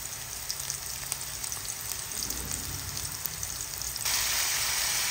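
Garlic, onion and ginger sautéing in a pan, a dense crackling sizzle with occasional stirring scrapes that grows brighter and louder near the end, no voices.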